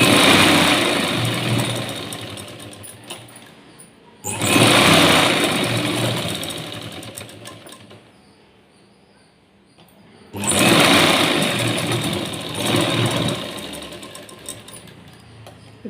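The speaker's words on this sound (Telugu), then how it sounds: "దీన్ని లూజ్ కుట్టు పెట్టుకొని హెమ్మింగ్ చేసుకోవడానికి వీలుగా అంచు మీద కుట్టి వేసుకోవాలి." An electric sewing machine stitches along the edge of a blouse in two loud, rapid bursts of steady whirring, separated by a quieter pause.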